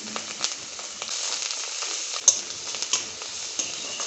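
Onion paste sizzles in hot oil with cinnamon, cardamom and cloves, a soft, steady frying crackle with scattered pops and light stirring taps, fairly quiet and with no voices.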